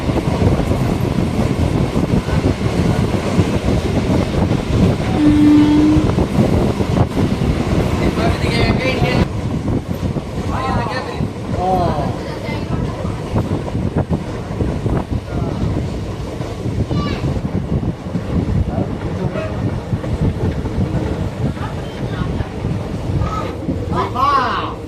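A Madurai–Rameswaram passenger express train rolls along near the sea toward the Pamban bridge, heard as a loud continuous rumble blended with heavy wind buffeting, with voices talking intermittently over it.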